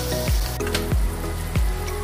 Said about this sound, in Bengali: মশলাটা একটু ভাজা ভাজা হয়েছে, তার ভেতরে চিংড়িটা দিয়ে দিলাম